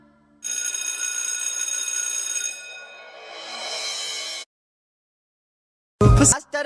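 A telephone rings loudly and continuously for about four seconds, then stops abruptly; a loud burst follows after a short silence.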